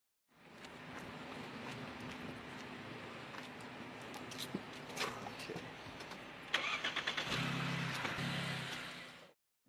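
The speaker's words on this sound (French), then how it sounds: "Redémarrer la voiture." A car engine cranks and catches after a battery problem, then idles steadily and revs up in a louder burst, heard alone in a quiet setting.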